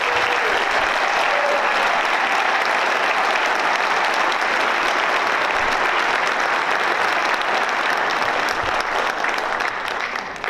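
Sustained applause from an audience at a National Honor Society induction ceremony, a dense, steady wash of clapping that holds loud and even for about ten seconds with no talking.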